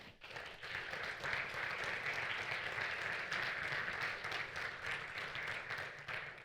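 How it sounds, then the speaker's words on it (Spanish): Audience applause after a talk at a conference, dense continuous clapping from a crowd that swells quickly, holds steadily for several seconds and then tapers off. "Un aplauso para Mario."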